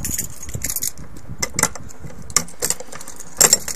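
Keys jangle in short, bright bursts at irregular intervals, close by, in a workshop during the rebuild of a GX270 paramotor.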